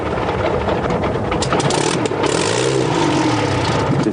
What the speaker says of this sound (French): C'est un moteur évidemment à échappement libre, alors vous imaginez 27 litres de cylindrée, 1800 chevaux qui vous crachent des flammes